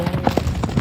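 Horse hooves clip-clop in a quick, uneven rhythm of distinct knocks, close and fairly loud, with a faint voice in the background.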